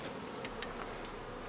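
Honey bees buzz steadily during a hive inspection a few days after a split, a close, continuous droning hum with occasional individual bees flying past, and no talking.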